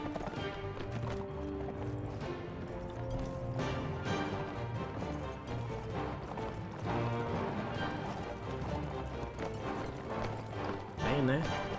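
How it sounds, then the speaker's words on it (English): Horses galloping in a medieval video game, a steady clip-clop of hooves running under a continuous bed of music and game sounds, with an occasional whinny. "They're on horses too."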